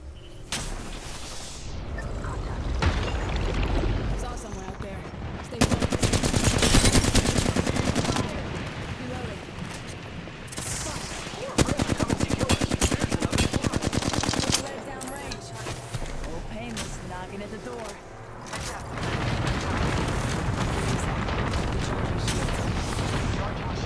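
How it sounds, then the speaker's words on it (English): Gunfire in Apex Legends: repeated bursts of shots and heavy booming blasts come in loud waves, layered under squad voice lines and ongoing game sound. "Opening fire."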